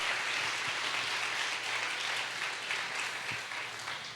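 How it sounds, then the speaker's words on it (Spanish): A church congregation applauds in a steady, dense wash of clapping that carries on for several seconds, slightly fading at the end. "Alguien dele un aplauso a Dios en esta hermosa mañana."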